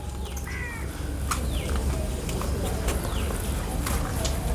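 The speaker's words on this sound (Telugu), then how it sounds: "బర్డ్స్ చర్పింగ్." Birds chirping outdoors at a villa resort in Alleppey, Kerala, scattered short calls and a crow-like caw over a steady background of ambient noise.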